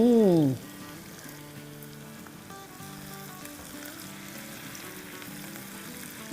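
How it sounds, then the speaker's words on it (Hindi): Chicken masala pieces frying slowly in a pan over a low flame, a soft continuous sizzle heard close up after a brief louder sound at the start, with no talking. "यहाँ 4-5 मिनट हो गए हैं हमारे चिकन को भूनते हुए धीमी आंच पे।"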